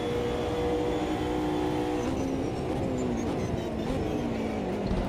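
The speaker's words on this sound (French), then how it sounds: "Et le bruit des Porsche, on l'entend." Porsche race car engine sounds in an IMSA 2024 endurance racing game, a steady loud engine drone with shifting pitch as the car accelerates and changes gear.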